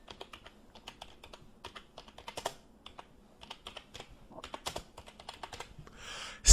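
Computer keyboard typing while entering accounts in QuickBooks Online: a steady run of light, close key taps in uneven bursts and short pauses, ending in a louder click.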